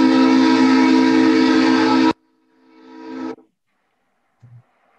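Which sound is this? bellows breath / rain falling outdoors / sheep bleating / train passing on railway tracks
train passing on railway tracks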